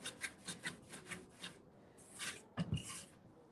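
A green scrub pad rubs back and forth around furniture hardware, close rhythmic rasping strokes in quick bursts, followed by a pause and a couple of louder scrubbing scuffs, no talk.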